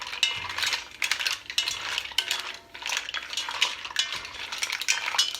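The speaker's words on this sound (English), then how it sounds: "Give them a stir." A spoon stirs a pound of mussels in a pot, giving near, continuous scraping and clattering of shells against the pot with a faint sizzle underneath.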